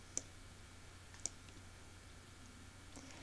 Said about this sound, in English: So now when I click on the Brenda Brown and I click on Add